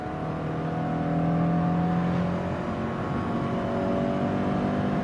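A 2018 Subaru Forester 2.0X Platinum with Lineartronic transmission drones under full throttle in second gear, the engine note climbing steadily inside the cabin, moderately loud with road rumble beneath.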